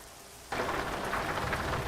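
Rain in Euro Truck Simulator 2 suddenly starts pouring, a dense steady patter of drops on a surface with a low rumble of thunder beneath, with no voices.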